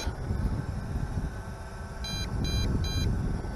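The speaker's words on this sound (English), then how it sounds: "that beeping, I didn't realise, is actually the low battery warning" Three short, high electronic beeps in an even rhythm from a Virhuck V-6 GPS drone's low battery warning, cutting through steady wind rumble outdoors.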